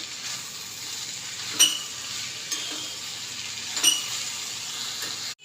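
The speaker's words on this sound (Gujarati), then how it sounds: "એકવાર આપણે હલાવવાનું, મસાલો મિક્સ થઈ જાય બધો." Green corn chevdo with spices stirred in a pan on the stove, a low steady sizzle with a few sharp scrapes and clinks of a spoon against the metal at irregular intervals.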